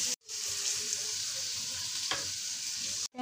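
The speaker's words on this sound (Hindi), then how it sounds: "कीमा जो है वो मैंने ऐड कर दिया है और अब मैं इसको लो फ्लेम पे रखूँगी" Mutton keema mixed with yogurt sizzles steadily in a pan over a low flame, a continuous soft frying hiss with faint crackles and a brief stir scrape, heard alone.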